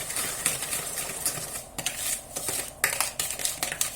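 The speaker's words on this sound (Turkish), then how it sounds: "İkisini biraz çırpacağım. Şeker eriyene kadar." A whisk beats eggs and sugar in a bowl for a cocoa sponge cake, giving quick rhythmic clinks and scrapes against the bowl at close range, with no talking.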